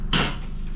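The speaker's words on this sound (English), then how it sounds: "Tap our axle in." A single sharp tap lands as an axle is knocked into the wheel of a 2015 Harley-Davidson Street Rod during wheel work, close and fairly loud, followed by a brief ringing decay.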